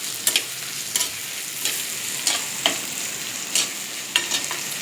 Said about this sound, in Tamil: 2 பெரிய தக்காளி இந்த மாதிரி நல்லா பொடியாக கட் பண்ணி வதக்குங்க